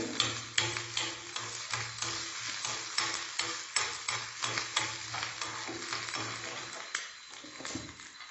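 Red chillies and fenugreek seeds fry in hot oil for a South Indian buttermilk stew, with sharp repeated scraping stirs over a steady sizzle that thins out near the end.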